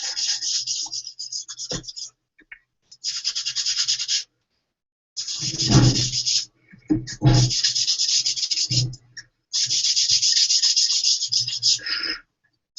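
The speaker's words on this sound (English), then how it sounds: "I'm just going to go ahead and sponge the Pool Party onto this card" Pool Party ink sponged onto a stamped paper card in a papercraft workshop: close, soft scrubbing and dabbing strokes in several separate bursts with short pauses between, and no talking.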